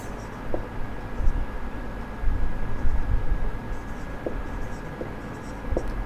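Chalk or marker writing on a classroom board during an accountancy lesson, with faint scattered strokes and taps over a steady background hiss and low room rumble.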